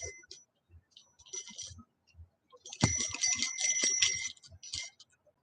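A small hand bell rings out in several bright, jangling bursts, with a louder sustained shake near the middle, close by among short pauses and light handling noise.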